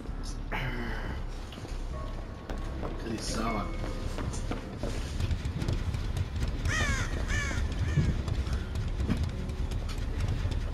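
Crows caw repeatedly in the horror game Dead by Daylight, the harsh calls rising clearly over a steady ambient bed while a person talks through much of the stretch.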